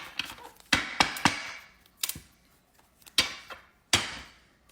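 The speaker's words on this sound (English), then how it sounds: "So this is the first shuffle for Sagittarius." Marchetti tarot cards being shuffled at close range, a series of sharp papery riffles and taps in irregular bursts separated by quiet gaps, fairly soft overall.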